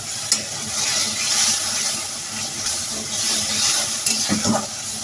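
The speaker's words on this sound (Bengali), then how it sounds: "পেঁয়াজ বাটা, জিরা বাটা, হলুদের গুঁড়া, মরিচের গুঁড়া আর লবণ একসঙ্গে দিয়ে ভালো করে কষিয়ে নেব" Onion paste, cumin paste, turmeric, chili powder and salt fry and get stirred in a pan, giving a continuous crackling sizzle with scraping stir strokes and a few louder spatters.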